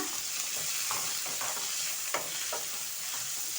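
Chopped mint and coriander frying in a pan for an amaranth-leaf stir-fry, with a constant loud close sizzle and soft periodic stirring scrapes.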